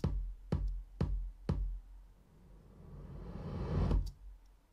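Reverse reverb in Logic X, wet signal only: a few sharp hits with short tails, then a hissy wash that swells steadily and ends in a final hit.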